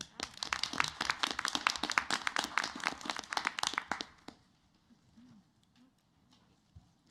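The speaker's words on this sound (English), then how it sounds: "I think we can all give them a round of applause" Enthusiastic applause from a crowd at a board of education meeting, dense clapping for about four seconds before fading into a quiet room with faint murmurs.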